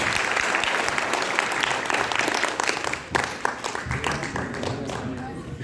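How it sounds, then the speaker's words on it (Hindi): Enthusiastic clapping from an audience at a cultural function performed by blind artists, a loud continuous burst that briefly dips midway and then carries on with a few sharper individual claps. "बार और जोरदार तालियां"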